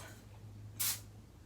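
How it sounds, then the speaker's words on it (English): One short hiss of hairspray on a styled longer pixie cut, brief and close against a quiet room hum. "And spray it in place"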